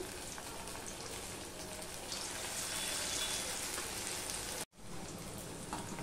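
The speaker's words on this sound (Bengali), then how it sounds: "মিডিয়ামের থেকেও একটু কম করে দিয়ে ভাজছি।" Chicken pieces for chilli chicken frying in oil in a pan over low-medium heat: a dense, even, rain-like crackle that rises slightly midway and cuts out for a moment near the end.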